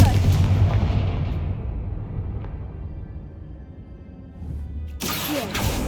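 A Confringo blast spell cast in the Hogwarts Legacy video game gives a heavy booming burst that fades over several seconds, then a second sharp, bright impact lands near the end.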